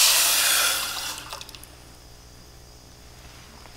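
Water pours into a cooking pot for lentils as a loud rushing stream that tapers off after about a second, followed by small drips, splashes and quiet clinks, with no talking.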